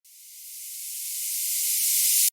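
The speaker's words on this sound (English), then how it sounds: "a downsweep reversed" Reversed downsweep effect for a melodic dubstep build-up, a bright airy noise swell that steadily grows louder over about two seconds and then stops abruptly, alone with no voices.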